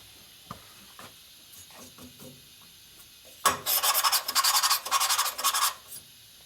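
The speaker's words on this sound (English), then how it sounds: "We're not lapping it to really cut anything," A valve is lapped by hand against its seat in a rebuilt S&S Evo motorcycle cylinder head, giving a close, dry grinding rasp in a burst of quick back-and-forth strokes after a few faint taps.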